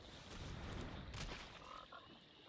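A digital croak effect plays for the Psychic Frog card in the online game MTG Arena, a faint, brief, quiet croak over soft background noise, without speech.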